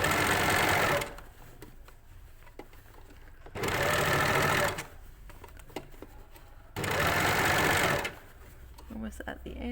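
Sewing machine stitching elastic into a cuff, running in three loud bursts of about a second or so each, separated by quieter stretches of handling and fabric rustle.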